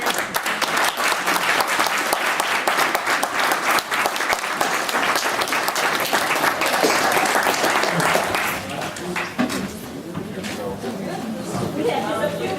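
Audience applause at a university Constitution Day event, sustained loud clapping from a crowd that thins and softens near the end with some chatter underneath.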